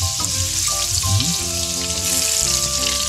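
Chopped onion frying in a hot pan, a steady sizzle with crackling running throughout as the base for sweet, sour and spicy crab, with tonal kitchen clatter layered over the hiss.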